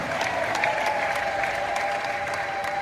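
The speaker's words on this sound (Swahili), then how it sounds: "Piga Yesu makofi na vigelegele shaka" Steady, dense applause from a church congregation clapping for Jesus, continuous and even with some faint crowd noise mixed in.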